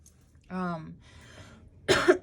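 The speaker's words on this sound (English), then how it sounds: "I was gonna like hiccup and cough at the same time" A short voiced catch in the throat, then a brief cough burst, close and fairly loud, with quiet breathy sounds in between.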